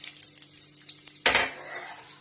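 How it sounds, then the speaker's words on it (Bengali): Dried chilli, bay leaf and cumin go into hot oil in a pan. A few light utensil clinks are followed by a sudden loud sizzle burst that quickly fades to a soft hiss. "প্রথমে প্যানে তেল গরম করে ওর মধ্যে ফোড়ন দেব, শুকনো লঙ্কা, তেজপাতা, জিরে"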